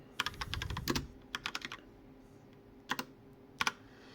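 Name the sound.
typing a place name on a computer keyboard in QGIS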